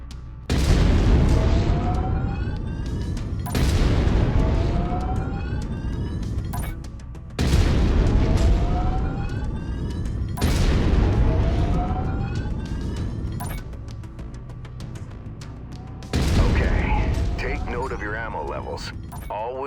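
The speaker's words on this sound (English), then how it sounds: "I've mapped the autocannon to Weapon Group 1. You're free to fire whenever you're ready." A mech's autocannon in MechWarrior 5 Mercenaries fires five heavy booming shots a few seconds apart, each a deep blast with a long rumbling, ringing decay.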